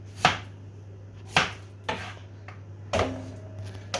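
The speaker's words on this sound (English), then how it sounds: "I just chop the garlic" A knife chops garlic on a board in four or five separate, sharp thuds spaced roughly half a second to a second apart, close and distinct over a low steady hum.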